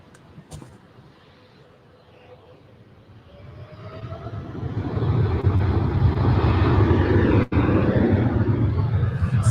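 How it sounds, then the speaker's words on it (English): Boeing 777-300ER airliner departing on a runway, its engine roar building from a quiet rumble into a loud, steady broadband thrust that holds to the end. "777-300ER on our way to Tokyo. About to depart here on 24 left."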